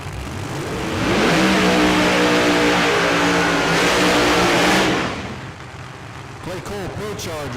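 A pair of 1969 Camaro drag race cars at a no-prep drag race at Ozark Raceway Park, one Pro Charger supercharged and one with a big roots blower, rev loudly and steadily, then fade, leaving crowd and announcer chatter.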